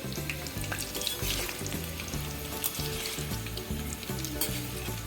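Salt-and-turmeric potatoes frying in a pan produce a continuous close-up sizzle and bubbling crackle, with soft stirring noises and no voices.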